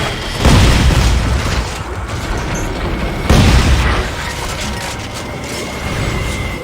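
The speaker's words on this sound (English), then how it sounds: "Got him again. Oh crap. Shotgun." A shotgun fires in the Dead Space 3 Awakening game, two heavy booming blasts about three seconds apart, loud against a dense mechanical game backdrop.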